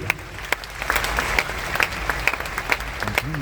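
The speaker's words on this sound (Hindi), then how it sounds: "एक बार इनके लिए ताली बजाइए जोरदार" An audience at an academy program in Bhilwara claps loudly for someone called up to the stage, a dense sustained round of applause with sharp individual claps and a voice briefly heard at the end.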